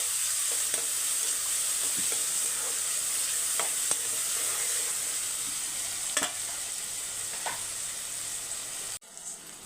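Large chunks of tomato fry in a pan with a steady, bright sizzling hiss, broken by occasional light clicks of a stirring spoon, close and continuous for nearly ten seconds before cutting off.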